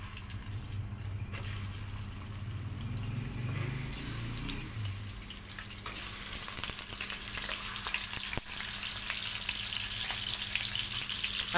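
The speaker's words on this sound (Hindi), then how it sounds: "अब इसके अंदर हम सबसे पहले डाल देंगे चिकन को हमने अच्छे तरीके से इसके अंदर फ्राई कर लेना है" Chicken frying in ghee in a pot, for bhindi gosht, gives a soft continuous sizzle and stirring scrape close by, with brief clatter and what sounds like running water; no talking.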